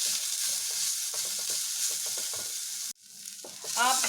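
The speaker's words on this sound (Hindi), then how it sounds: "अब इन आलूओं को, ग्रेट किए हुए आलूओं को हम 30 सेकंड तक रोस्ट कर लेंगे थोड़ा सा।" Grated potatoes for a vegan kheer roast in a pan, with a steady sizzle and a spoon stirring in short, repeated scrapes, close and loud, then a sudden dip before the frying hiss swells back.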